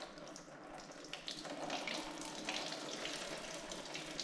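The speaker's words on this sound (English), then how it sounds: "it's definitely got some water in it. I'm going to let that drain out first." Water drains steadily out of an M and W dynamometer, a continuous close splashing trickle with a few brief louder surges and no talking.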